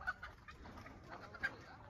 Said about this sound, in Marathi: आता ही कोंबडी आतमध्ये चालली.